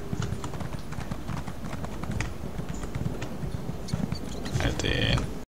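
Horse hooves clip-clop steadily at a slow walk in the Elder Scrolls Online video game, a continuous run of light, close hoofbeats with voices talking over them.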